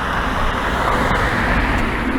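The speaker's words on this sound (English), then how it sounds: "sorry for the noise of the cars" Road traffic streams past along an avenue as a steady, loud broadband roar of passing cars, with no voices over it.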